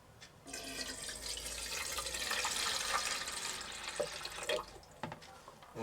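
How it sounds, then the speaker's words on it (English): A glass of water pours into an electric kettle in a steady, soft stream that runs for a few seconds, then tapers into a few faint drips and clinks. "So I'm going to pour a glass of water inside."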